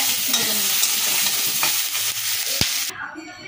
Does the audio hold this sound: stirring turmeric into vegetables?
yes